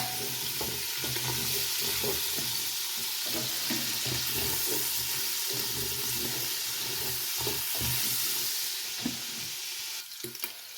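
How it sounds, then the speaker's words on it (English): Carrots simmering in a pot over medium heat give off a continuous, fairly loud bubbling hiss that holds steady for the whole stretch, with no one talking. "And now we're going to let this simmer for about 10 minutes."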